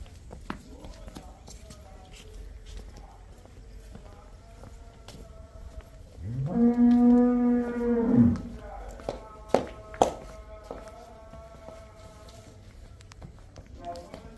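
A single long, drawn-out cow moo rises and falls on a farm where cows are being sold, heard close over quiet background noise and scattered knocks.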